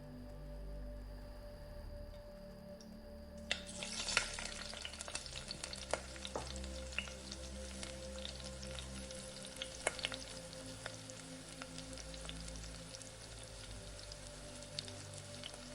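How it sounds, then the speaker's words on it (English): Meat browning in olive oil in a pot: after a few quiet seconds a steady crackling sizzle sets in and continues, dotted with small pops and spatters. "Then I'll ladle the meat into the same pan so that it can be braised and browned"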